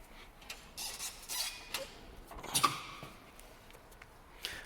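A Snap-On toolbox drawer slides open with faint creaking and light metallic rattles, quiet and close.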